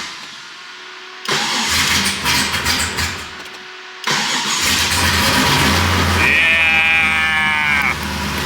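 A BMW E46 engine cranks, stops, then catches and starts, settling into a loud idle while a high whine sounds briefly over it.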